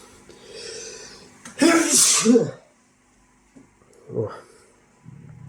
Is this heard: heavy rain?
no